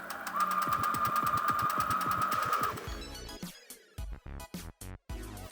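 A sewing machine stitches quilt pieces, a fast steady mechanical whir and rapid needle thump for a few seconds close by, then stops, followed by irregular clicks and handling noises.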